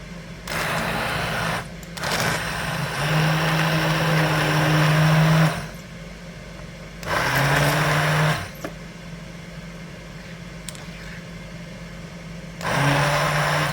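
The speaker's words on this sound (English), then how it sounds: "I use the immersion blender on this and blended it up" An immersion blender whirs through a thick Mexican chicken wing sauce in several separate bursts, each a loud steady motor drone lasting a few seconds, with quiet gaps between.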